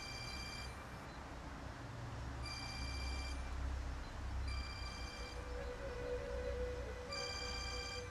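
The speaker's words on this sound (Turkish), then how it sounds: "Bombacının telefonu burada bir yerde çalıyor doktor." A phone rings in repeated electronic bursts, trilling on and off against a low rumbling background, moderately close and with no voices.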